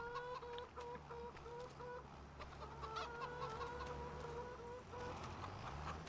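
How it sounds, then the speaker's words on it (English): Chickens in the farming video game Farming Simulator 25 cluck steadily and repeatedly, with several birds calling over a constant low farmyard hum and no talking. "I love the sound of chickens."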